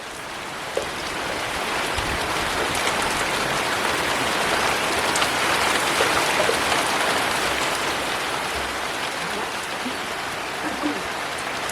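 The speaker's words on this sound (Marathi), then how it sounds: "सरीवरचा पाऊस आहे." Monsoon rain falls steadily in a Konkan village, a dense, even hiss of drops on surfaces that stays loud and close, unbroken for the whole stretch.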